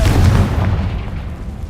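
A Confringo fire spell explodes in Hogwarts Legacy, a loud, deep booming blast that rolls out and fades over a second or two, heard alone.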